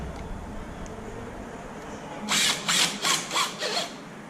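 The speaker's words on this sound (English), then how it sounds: "You don't want to go crazy with these drills because, like I said, you can strip the bolt right through" A power drill drives bolts on a Traxxas E-Revo RC car in four or five short, close bursts of whirring, each ending abruptly, after a stretch of low background noise.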